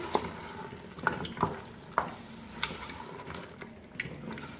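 Beef trotters for Lahori paya sautéing in about half a cup of oil with cooked-down masala over a medium flame, a soft steady sizzle broken by several distinct scrapes and taps of a spoon stirring the pan.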